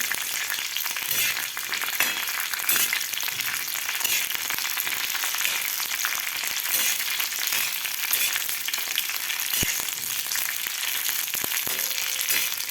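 Green chillies roasting in oil in a pan until blistered, with a loud, continuous close sizzle and occasional stirring knocks. No one talks.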